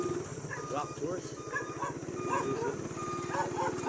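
Two dogs barking outdoors, a run of repeated barks and yips heard under steady conversation between men.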